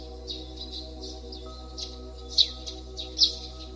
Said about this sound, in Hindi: चिड़ियों की चहचहाहट, पत्तों की सरसराहट और कभी-कभी जानवरों की हल्की आवाजें सुनाई देती थीं।